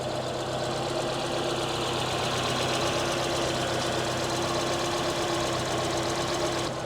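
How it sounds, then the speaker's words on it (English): A Mazda Miata engine with a new Gates timing belt idles steadily and close, a smooth, even mechanical hum with a faint rhythmic tick underneath and no voices. "now the Gates timing belt is back in, and it's idling a lot smoother because the belt is not rattling on the engine."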